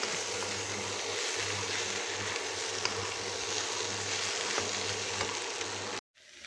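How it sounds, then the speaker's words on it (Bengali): Jackfruit sizzles steadily as it is sautéed with spices in a pan, a continuous close frying hiss with faint stirring scrapes, no voices, ending abruptly. "তো আমি খুব ভালো মতো নাড়াচাড়া করে যাতে নিচে লেগে না ধরে একটু পরপর নাড়িয়ে চাড়িয়ে খুব ভালো মতো কাঁঠালটাকে কষিয়ে নিব।"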